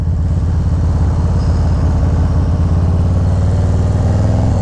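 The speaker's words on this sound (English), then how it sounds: "What do you guys think about the sound of this exhaust, man?" Motorcycle fitted with an SP Concept 2-in-1 exhaust, ridden on a New Hampshire highway, gives a steady, loud, close engine drone with a low throaty rumble and a constant rhythmic pulse, and no voices over it.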